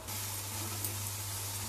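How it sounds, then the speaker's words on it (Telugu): Chopped tomato pieces sizzle in a pan of fried onions for a bitter gourd curry, giving a steady, even hiss with a low hum beneath that runs without a break. "ఇందులోకి ఒక టమాటాని సన్నగా కట్ చేసుకొని వేసుకోవాలి"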